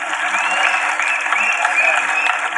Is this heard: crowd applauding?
yes